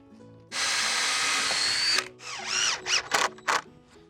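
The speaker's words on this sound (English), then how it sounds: "I'm gonna put 2 more screws on top of each strut." A power drill drives screws into a wooden raised garden bed strut, one long steady whirring burst followed by several shorter, stuttering pulses as the screw seats, close and loud.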